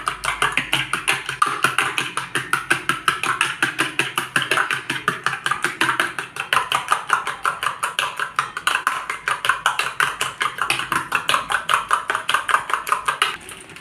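Rapid, even clicking of a fork or whisk beating eggs in a bowl until smooth and frothy, the beats close and steady for the whole stretch with no voices.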